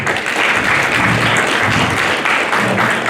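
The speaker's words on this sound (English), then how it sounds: "Round of applause, please." Conference audience at a Canadian annual plenary panel breaking into applause, a loud, close, continuous roar of many hands clapping that stays dense and even throughout, with no talking.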